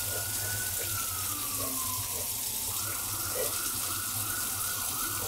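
Tap water runs steadily into a saucepan as it is rinsed clean in a kitchen sink, a continuous close splashing hiss with a faint background whine drifting in and out.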